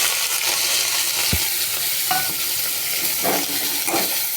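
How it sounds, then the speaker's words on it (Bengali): Chopped beans, carrot and capsicum fry in a pan for uttapam with a steady, loud sizzle. A single dull knock and a few spatula scrapes and stirs are heard up close, with no talking. "এর মধ্যে আমি এই যে বিনস, গাজর, ক্যাপসিকাম কেটে রেখেছি, এগুলো দিয়ে ভাজবো।"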